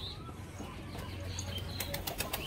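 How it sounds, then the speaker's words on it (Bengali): A male pigeon, a Fulshira Najra type kept for high flying, beats its wings close by in a steady run of soft flapping that quickens toward the end, with no talk over it. "এটা নর পায়রা, এটা একটা নর পায়রা"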